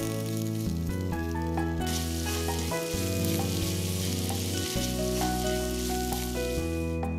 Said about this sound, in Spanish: esta cebolla que tenemos aquí dorándose